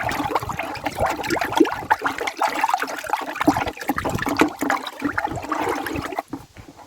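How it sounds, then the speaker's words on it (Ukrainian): A liquid mixture in about four litres of water being stirred to dissolve, sloshing and swirling close by in a continuous watery churn with small splashes, ending abruptly, no voices. "Нехай воно зараз я розмішаю нехай воно гарненько розчиниться"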